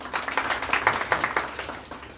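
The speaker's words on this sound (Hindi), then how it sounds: "एक बार तो ज़ोरदार तालियां हो जाए इनके लिए" Loud applause from a gathered audience honoring Komal's selection as a Patwari, dense overlapping claps sustained steadily throughout at close range.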